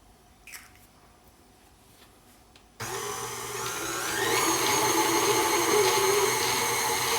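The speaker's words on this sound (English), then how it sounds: "So you're gonna add them to your cream cheese and sugar mixture one at a time and mix in between each one." An electric mixer starts up abruptly and whirs steadily, rising slightly in pitch as it beats eggs one at a time into a cream cheese and sugar mixture for cheesecake, loud and continuous with no talking.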